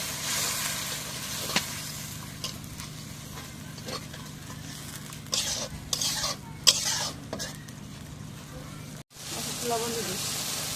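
Spices with cumin and garlic paste fry in a pan under a quiet sizzle as a spoon stirs and scrapes in repeated strokes. A brief voice is heard near the end.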